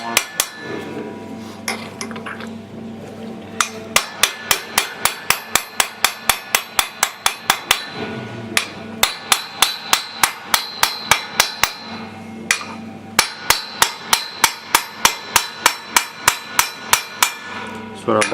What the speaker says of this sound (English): You must hammer it down to the grooves of the snap rings appear.